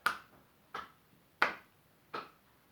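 Four sharp, evenly spaced claps of a fist striking an open palm during a qigong flow, alternating in front of and behind the body, each crisp and close.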